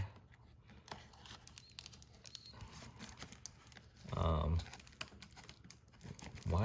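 Plastic wrap and tape are peeled off a fan in crinkly, scratchy bursts, with a louder tearing pull near the end, while a person talks quietly throughout.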